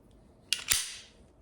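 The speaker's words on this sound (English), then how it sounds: "I'll go ahead and show you that this gun is clear" A Glock 23 Gen 4 pistol fitted with an RMR sight is handled to show it is clear, giving two quick, crisp metallic clacks close together, followed by a short fading ring in an otherwise quiet setting.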